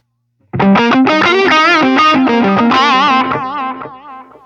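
Distorted electric guitar through a Line 6 POD Express pedal set to tape delay plays a loud, steady run of notes for about three seconds, then the repeats trail off as the echo fades.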